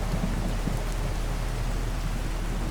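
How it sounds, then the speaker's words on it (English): Steady rain from the Fallout 4 video game falls as a dense, even hiss with a low rumbling undertone, continuous and loud without pause. "A little bit of rain getting through, but not much."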